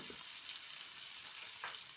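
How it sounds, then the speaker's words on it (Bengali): Boiled potatoes fry in a little oil in a pan, giving a steady broadband sizzle that holds evenly for two seconds with faint stirring scrapes, no voices. "সেদ্ধ করা আলুটা ভেজে নেব।"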